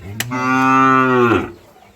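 A native-breed bull on a dairy farm lets out a single loud, close moo lasting about a second, steady and tonal, then fades into quiet.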